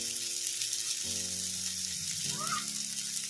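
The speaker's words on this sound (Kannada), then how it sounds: "ಫ್ರೈ ಮಾಡ್ಕೊಂಬಿಡೋಣ ಮೀಡಿಯಮ್ ಫ್ಲೇಮಲ್ಲಿ" Tomatoes fry in a pan over a medium flame after a pinch of turmeric powder goes in, giving a steady soft sizzle under faint background music tones.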